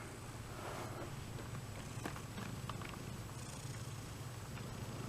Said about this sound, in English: I think she's just going to sit there and purr.